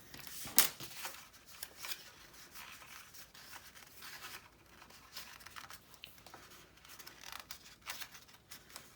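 Paper is scored by hand, giving soft scraping and crinkling strokes, faint and close, with one sharper click near the start.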